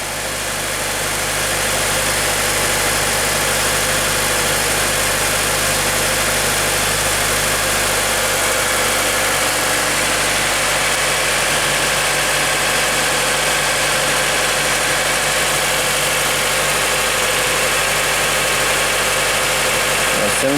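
Acura TSX engine idling steadily with the hood up, a constant close mid-low hum with a faint whine and hiss that holds level throughout, with no talk over it.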